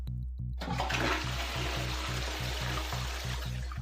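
A toilet flushes with a loud, sustained rush of water that starts abruptly and keeps gushing, set against a steady low mechanical hum; the toilet has a nano coating and uses half the normal amount of water.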